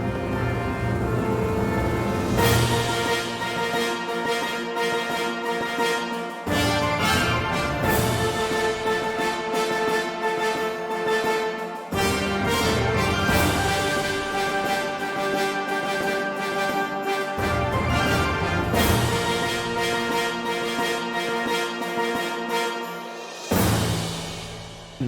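A full orchestral passage in which bassoon, tuba and trombones play alongside marimba and xylophone, backed by percussion, in loud sections that briefly drop out and restart.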